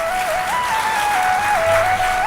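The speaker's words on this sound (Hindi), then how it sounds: "अब बजाओ ताली।" Audience clapping at a Hindu devotional discourse, a steady, dense wash of applause filling the hall, with a sustained musical tone running through it.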